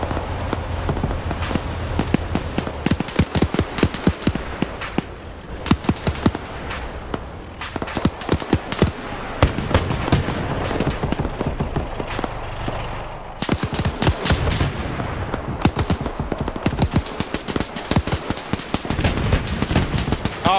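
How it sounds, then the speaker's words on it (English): Anti-aircraft gun in a WW2 game blasting away during a drive-by, a long run of rapid, crackling shots with dense repeated bangs over continuous rumble, loud and close throughout. "Now we got the AA gun drive-by."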